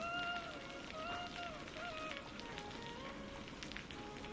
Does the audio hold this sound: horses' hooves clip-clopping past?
no